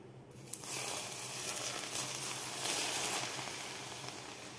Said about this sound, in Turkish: Şimdi tenceremize yağımızı ekliyoruz.